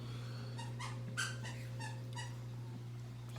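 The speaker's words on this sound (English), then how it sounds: "sorry about the squeaky toy from the dog" A dog chews a squeaky toy, producing several short, high squeaks in an irregular rhythm over a constant low electrical hum.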